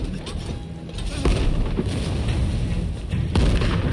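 Enemy guns fire in the feudal Japan game Rise of the Ronin, giving heavy, booming close shots over a dense rumbling battle bed, loud and without speech.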